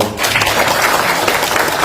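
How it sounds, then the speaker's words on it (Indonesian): Applause from an audience at an Indonesian political party event after an official is introduced, a continuous dense wash of clapping at steady loudness. "Tepuk tangan untuk beliau."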